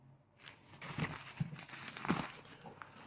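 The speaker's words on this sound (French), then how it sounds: "C'est du papier à bulles, tout simple." Plastic wrapping crinkles and rustles up close, soft crackling with a few sharper pops as it is handled.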